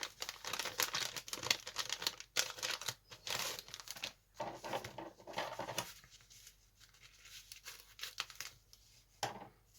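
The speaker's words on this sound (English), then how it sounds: "I shall open the bag." Plastic crinkles and tears in irregular bursts close by, with short pauses between the rustling rips as a model kit parts bag is cut open with scissors.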